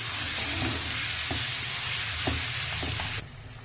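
Sesame and peanut chutney frying in hot oil in a pan, a steady loud sizzle with a few soft stirring taps, dropping away near the end.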